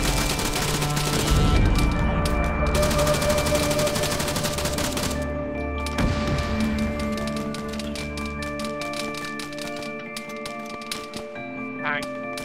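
Rapid bursts of automatic gunfire and single shots from the Arma 3 video game crackle in dense volleys, loud and close at first, then thinning into scattered, sharper reports, with music-like tones running underneath.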